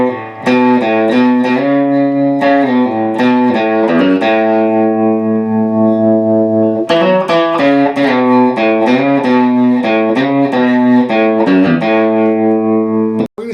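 Electric guitar plays a melodic solo line with wavering vibrato and a reverberant wash, notes ringing and sustaining one after another.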